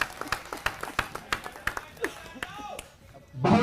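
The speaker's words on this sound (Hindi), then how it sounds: "जोरदार तालियों से स्वागत करेंगे परम आदरणीय श्रीमान अरविंद केजरीवाल जी का।" Scattered, irregular hand claps from a small group welcome Arvind Kejriwal at a gathering with Delhi auto drivers, followed by a brief burst of louder noise at the end.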